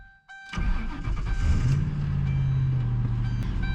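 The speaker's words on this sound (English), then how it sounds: "what's it like to drive a manual swapped Crown Victoria?" Manual-swapped Ford Crown Victoria cranking briefly and then firing up, its engine settling into a loud, steady rumble with a low droning tone that holds up close.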